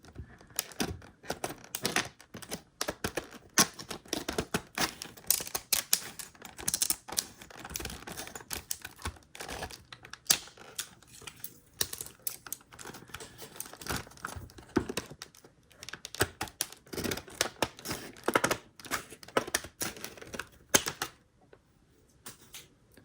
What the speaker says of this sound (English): I apologize for the cutting sounds.